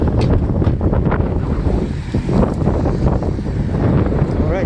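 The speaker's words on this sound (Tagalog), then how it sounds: "medyo mahangin" Strong wind rumbles and buffets the microphone continuously, a loud, gusty roar close by with faint voices underneath.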